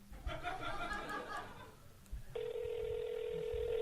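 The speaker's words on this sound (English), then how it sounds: "Let's see if we can get Jeremiah on the phone." A telephone call being placed during a comedy show, with a steady ringback or dial tone held alone after brief laughter and chatter from the room.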